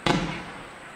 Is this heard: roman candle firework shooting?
yes